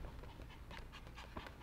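A puppy pants in quick, soft, rhythmic breaths close by, with faint background noise and no talking.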